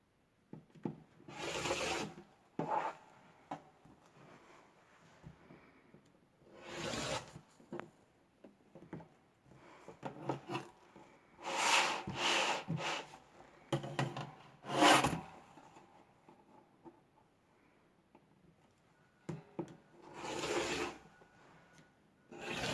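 Fabric and batting on a quilted pot holder being trimmed to size, with several separate bursts of cutting and rubbing spread through a quiet room, close by and moderately loud.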